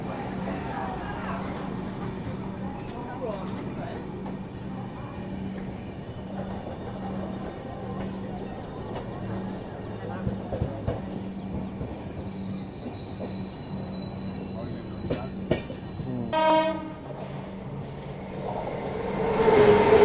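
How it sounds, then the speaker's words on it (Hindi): The Sealdah Ajmer Express rolls past on the line near Etawah, its wheels rumbling and clattering steadily for a long stretch. High squeals and a horn-like tone rise near the end, with voices talking faintly beneath. "और ये थी सियालदह अजमेर एक्सप्रेस"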